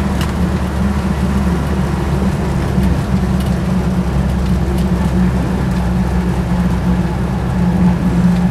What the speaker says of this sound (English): so you do get a little bit of tyre roar on them